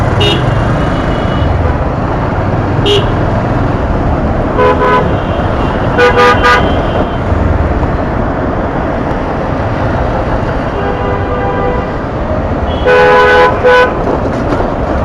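Jammed city road traffic, likely in Dhaka, with car horns honking in short repeated toots, some bursts stacking into a chorus, over a steady rumble of idling engines heard from inside a slow-moving vehicle.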